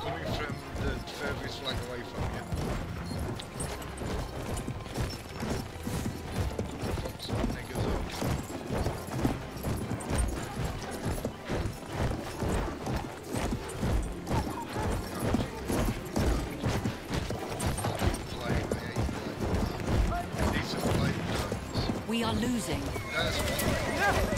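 Horses neigh and their hooves clip-clop in the Battlefield 1 video game, a continuous busy mix of galloping and whinnies amid mechanical battle noise, with people talking throughout.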